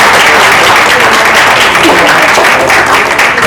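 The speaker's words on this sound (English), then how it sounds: "Could we have a round of applause for Daniel?" Loud, dense applause from an audience after a documentary screening talk, many hands clapping continuously at close range, with a murmur of crowd voices mixed underneath.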